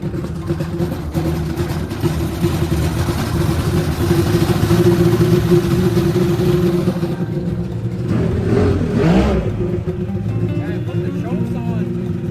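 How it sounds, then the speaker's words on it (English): A small racing jetboat engine built with motorcycle parts roars loudly at full throttle, holding high revs steadily with a brief surge of pitch partway through. "I've never actually had the boat rip this hard before"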